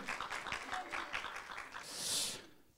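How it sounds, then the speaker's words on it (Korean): Church congregation applauding for a woman during a bilingual Korean-English sermon, a brief patch of clapping under a voice, swelling into a louder cheer near the end. "야, 박수 한번 쳐주세요. Big hand for her."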